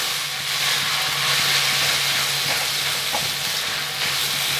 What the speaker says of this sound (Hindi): अब हम इसको 2 से 3 मिनट लगातार हिलाएंगे अच्छी तरह